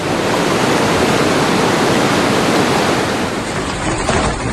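Floodwater rushes through the streets of Bergheim, Germany, during a storm, a loud, continuous roar of churning water with no voices.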